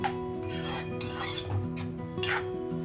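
Drumstick and egg curry with tamarind stirred in a pot: a few slow scrapes and clinks of a ladle against the pot over a low, steady background hum, close by.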